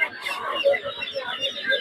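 Sultan chickens cluck in short repeated bursts at close range, steady and fairly loud, with a few sharper higher calls mixed in and a busy bird background underneath.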